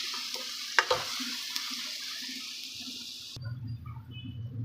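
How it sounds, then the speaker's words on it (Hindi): Spices for a moong chilka dal masala sizzle and fry in hot oil with a soft stirring scrape, a steady crackling hiss that cuts off abruptly to a quieter low bubbling near the end. "अब इसको अच्छे तरीके से फ्राई करेंगे मसाले को।"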